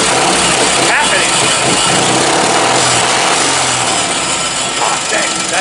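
A race car called The General, just finished and being readied to race, revs loudly as the throttle is tapped in short bursts, its engine growl filling the whole clip close up with a voice talking over it.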